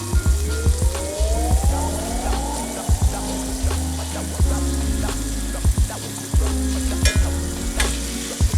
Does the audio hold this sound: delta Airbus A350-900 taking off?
no